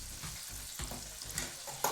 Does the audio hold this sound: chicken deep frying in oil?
yes